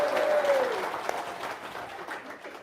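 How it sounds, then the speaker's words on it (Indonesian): Audience applause at a gathering, a moderate wash of clapping that gradually thins out over a few seconds, with a brief voice-like tone near the start. "tepuk tangan dong, luar biasa"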